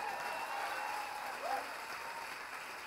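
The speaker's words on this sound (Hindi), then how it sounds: "ये मैं चाहूँगा कि इसी को ज़रा तालियों में तब्दील कर दीजिए" Audience applause at a Hindi comic poetry gathering (kavi sammelan), a steady, moderately distant wash of clapping lasting the whole stretch with a faint tonal whistle over it.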